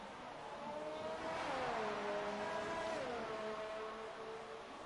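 Formula 1 race car engines in the F1 2019 video game at Abu Dhabi give a continuous high whine. The engine note sweeps up and down in pitch as the cars accelerate and shift gears, holding steady and moderately loud with no voices.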